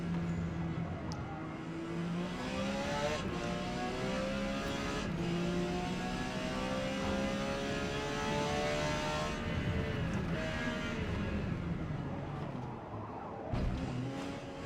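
A Porsche race car engine in the Forza Motorsport game on the Grand Oak Raceway National Circuit roars continuously, its pitch rising and dropping through gear shifts and corners, loud and close with no talking.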